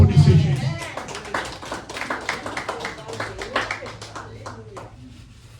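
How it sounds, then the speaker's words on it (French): A church congregation claps for Jesus during a sermon, sharp individual hand claps ringing out under voices. The clapping starts loud and thins out over several seconds. "Applaudissez Jésus."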